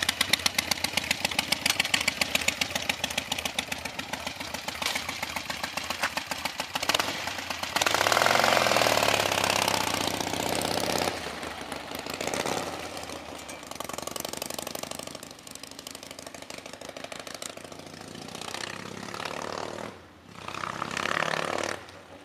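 A 1973 Harley-Davidson XLH Sportster with an iron-head engine runs with a loping, pulsing beat, then swells into a louder roar as it passes before fading back to a rhythmic idle.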